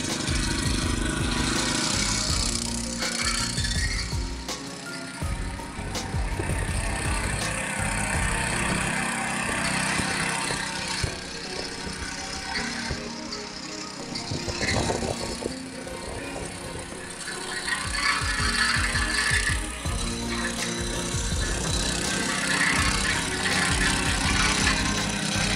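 Magnus BKM-8/1000 budget petrol cultivator engine running steadily and loudly throughout, with a continuous rattly mechanical drone and no talking.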